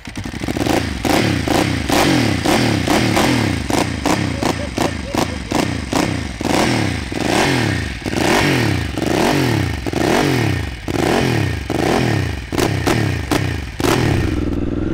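A loud Vyrus 985 4V C3 motorcycle engine revs hard and repeatedly while being ridden, pitch rising and falling in rapid waves with rattling mechanical clatter throughout, close and continuous.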